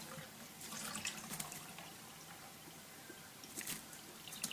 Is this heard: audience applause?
no